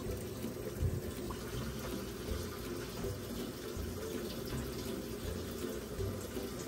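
A Panasonic 9.5 kg fully automatic inverter washing machine fills with rinse water, a soft continuous rush and trickle of running water with a low hum beneath, faint and steady throughout.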